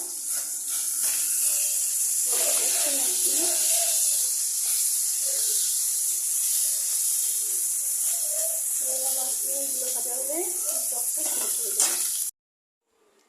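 Steady bright hiss of small mourala fish frying crisp in hot oil, continuous and close for about twelve seconds, with faint clinks and background sounds beneath before it cuts off abruptly.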